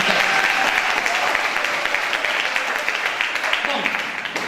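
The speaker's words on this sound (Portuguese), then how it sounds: "Uma salva de palmas para nossos expositores." Audience clapping for the presenters at a business conference, a full, even round of applause that holds steady and thins slightly toward the end, with some voices under it.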